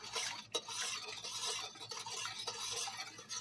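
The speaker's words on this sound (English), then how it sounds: "we're going to give that a stir" A spoon stirs sugar into tea in a cup, giving a continuous soft scraping and clinking of metal against the vessel, close and fairly quiet, with no voices.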